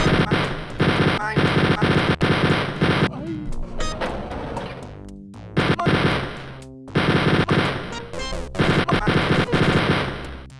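Rapid automatic gunfire in the retro shooter Wolfenstein 3D, loud repeated bursts broken by short pauses and a few separate shots, with game effects between volleys.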